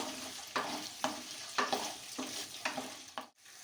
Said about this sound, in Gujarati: હવે આપણે આ કાચું બટેટું લીધું તો એ તેલમાં ચડી જશે, એને આપણે ધીમે ધીમે હલાવ્યા કરશું।